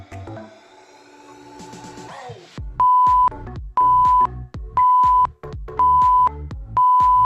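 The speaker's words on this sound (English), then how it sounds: "So when you hear those beeps, don't be stopping on me." A series of five loud, evenly spaced electronic beeps from a Tabata interval timer, about a second apart, following a brief musical passage.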